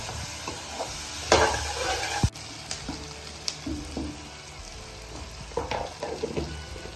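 Potatoes and bitter gourd stirred in a pan with turmeric, a spatula scraping and clattering in irregular strokes over a soft, steady sizzle, with one sharp knock partway through; no voices.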